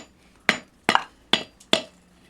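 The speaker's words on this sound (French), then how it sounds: "l'intérêt d'un maillet en bois, c'est admettons lorsque l'on veut faire des volutes ou des anneaux ou quelque chose dans le genre, c'est de pouvoir frapper notre barre." Wooden mallet striking a hot forge bar, four sharp evenly spaced knocks with a short ringing clink after each, close and alone in a quiet workshop.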